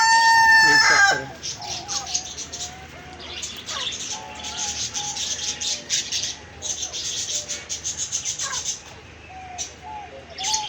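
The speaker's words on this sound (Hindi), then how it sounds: "ये मुर्गा साहब है जी।" A rooster crows loudly at a mini zoo beside a petrol pump, followed by repeated clucking and other fowl calls, with chirping birds and a steady background hum throughout.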